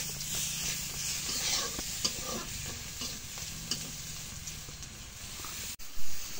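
Cumin seeds dropped into hot oil in a Bengali home kitchen, a close, continuous sizzle with scraping stirs and a few soft knocks, ending in a brief louder clatter.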